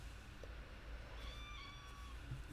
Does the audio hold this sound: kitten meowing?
yes